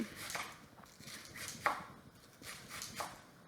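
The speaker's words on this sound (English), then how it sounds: "And we're just going to thinly slice it." Knife slicing cabbage thinly for coleslaw on a cutting board, a series of soft, irregular crunchy cuts close by and fairly quiet, with no talking.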